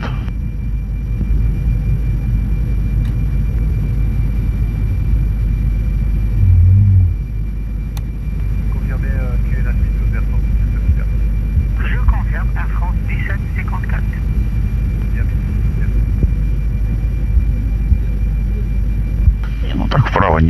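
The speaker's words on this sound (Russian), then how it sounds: "Я самолет вижу. Ага. Большой." Steady low jet engine rumble of a large Russian airliner taxiing after landing, with people talking quietly over the continuous drone.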